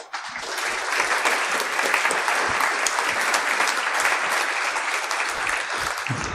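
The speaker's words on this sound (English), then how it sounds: "applause for Ankit." Dense, steady applause from a conference audience at a security event, many hands clapping continuously and loudly, starting abruptly and holding an even roar throughout.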